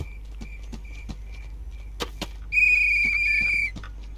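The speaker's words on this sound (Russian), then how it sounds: "Заколебали свистеть" Whistling in the game Hello Neighbor, a sustained high whistled tone of about a second after scattered clicks and thumps over a low steady hum.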